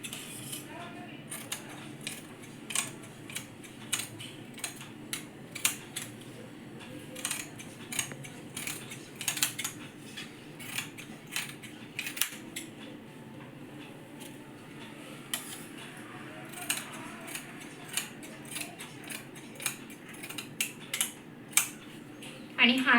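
Scissors cutting dress fabric and lining along marked lines for a cut-side dress, a long run of close, crisp irregular snips and clicks, with someone talking faintly underneath.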